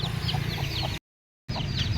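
A hen with twelve newly hatched chicks clucks softly and repeatedly in a garden, close by and steady, with high chick peeps and a brief cut to silence midway.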